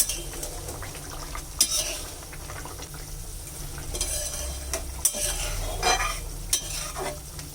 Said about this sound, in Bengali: ঝোলটাকে নেড়ে চেড়ে নিচ্ছি